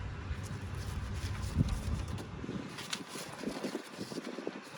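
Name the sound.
wind blowing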